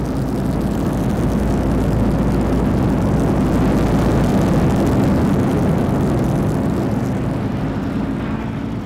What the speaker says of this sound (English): Keith Skilling readies the Hurricane for landing